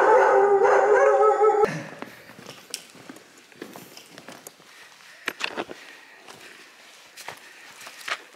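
Dogs howling in a long drawn-out chorus near Lake Atitlán, Guatemala, fading out within two seconds, followed by scattered footsteps and faint distant yips or barks on a quiet outdoor path.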